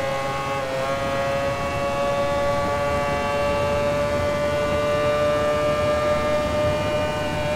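A Mazda 787B rotary race car in Gran Turismo Sport screams at a sustained high pitch, its engine tone rising slightly after a gear change near the start, loud and continuous with no talking.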